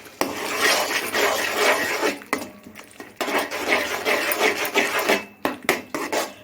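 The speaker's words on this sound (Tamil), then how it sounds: "இது எல்லாத்தையும் உள்ளே போட்டு நல்லா ஒரு கிளறி கிளறி விட்டுருக்கேன்" A utensil scrapes and stirs spices around a pan for tomato rice in continuous rasping strokes, close and fairly loud, with brief pauses between stirs.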